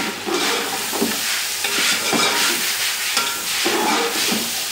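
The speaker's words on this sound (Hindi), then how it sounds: "अब चिकन को इतना फ्राई करेंगे कि इसका कलर चेंज हो जाए" Chicken pieces fry in a pan for Punjabi chicken pulao, a steady, loud, close sizzle that rises and falls with regular stirring scrapes throughout.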